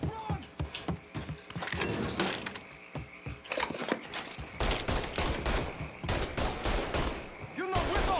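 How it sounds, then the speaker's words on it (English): Loud shotgun blasts mixed into a chaotic firefight in the video game Mafia 3, with repeated booming shots, breaking and clattering debris, and dense overlapping gunfire throughout. "It's shotgun time!"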